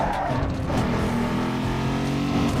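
Honda Civic engine in the racing game Need for Speed Underground 2, a loud, continuous rough engine drone with steady revving tones, close and alone.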